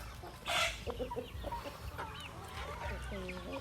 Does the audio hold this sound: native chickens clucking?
yes